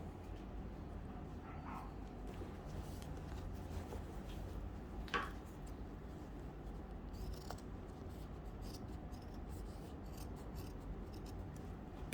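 Scissors cutting through skirt fabric along a seam during alteration, soft repeated snipping and rubbing against a steady low background hum, close and faint.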